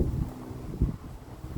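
Strong outdoor wind buffets the microphone in rumbling low gusts that rise and fall over a short stretch, loud and close, with no talk.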